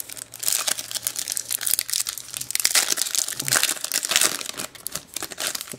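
Foil wrappers of Panini Champions League 2012/13 sticker packets crinkle and tear open close by, a dense, continuous rustling and crunching that runs for several seconds without talk.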